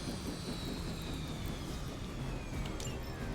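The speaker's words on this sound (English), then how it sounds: "You've grounded the helicopter." A helicopter in the video game Marvel's Midnight Suns gives a steady, loud engine and rotor drone that fills the whole short stretch, with a faint high whine sliding across it and no voices.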